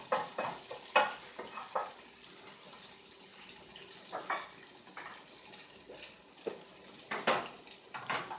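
Tofu fries in a pan with a soft, continuous sizzle, broken by a few scraping stirs as the pieces are pushed around. Close and fairly quiet, with no talking.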